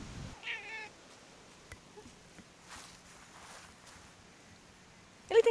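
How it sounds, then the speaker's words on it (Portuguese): A cat lets out a single short, grumpy meow right at the start, followed by quiet background with faint footsteps and a brief rustle at the end. "Ele tem cara de bravo, ele mia bravo, assim, mas ele é fofinho."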